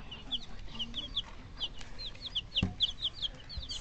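A hen clucks and chirps in a quick, repeated run of short bright calls, close and fairly loud, with a single low thump partway through.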